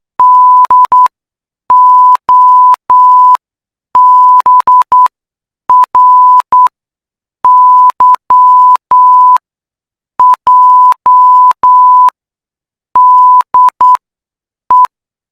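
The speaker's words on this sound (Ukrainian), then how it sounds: "короткий сигнал це крапка, довгий сигнал це тире" Clear, loud single-pitch Morse code beeps sound in groups of short and long tones, separated by brief silences.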